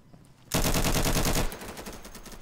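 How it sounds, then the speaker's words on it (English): Video game gunfire, a rapid automatic burst lasting about a second, loud and close, followed by fainter distant shots. "Shoot a shit ton of bullets"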